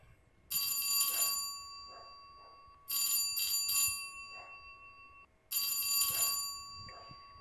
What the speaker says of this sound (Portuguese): É o som de uma campainha.